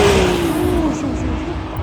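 A Ferrari 296 GTB supercar accelerates at a drag race meet, its engine note sweeping briefly past over a loud roar of crowd and track noise.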